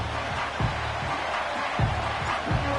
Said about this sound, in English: you can already hear this home crowd rallying in support of that upset